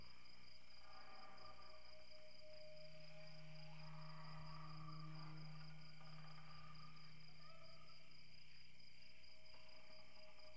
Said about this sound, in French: Est-ce que vous entendez le son des grillons?